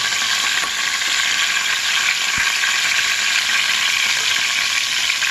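Cumin seeds crackle in hot oil for a cabbage wheat rava pulao, a loud, dense, unbroken sizzle close up with a faint clink partway through.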